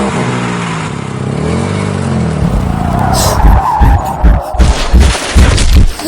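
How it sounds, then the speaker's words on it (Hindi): A car skids with squealing tyres and then slams into a large tree on a deserted city corner, the long screech giving way to a cluster of loud, heavy bangs and thuds up close. "जोर का धमाका हुआ और वो आवाज शहर के सुनसान कोने में गूंज उठी"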